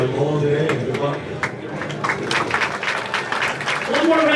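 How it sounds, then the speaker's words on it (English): Audience applause at a 2023 bowling invitational awards ceremony, a steady wash of clapping across the whole stretch with voices and a low murmur of talk running underneath. "One more round of applause, please,"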